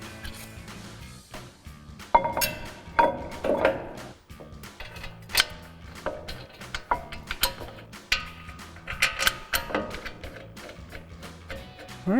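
Ratchet tightening the two 18mm brake caliper bolts on a 2019-2024 Silverado 1500 during a brake rotor and pad swap, sounding as bursts of close, dry mechanical clicking with scattered metallic knocks and pauses between runs.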